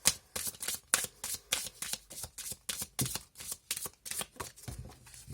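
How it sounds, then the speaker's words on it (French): Tarot cards being shuffled make rapid, crisp riffling and slapping bursts in a steady rhythm, close and clear with no voices. "Allez, je vais brasser encore une dernière fois."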